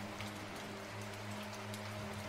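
Steady rain falling on a village house, a continuous soft hiss with scattered drops, faint and even throughout with a low hum underneath and no voices.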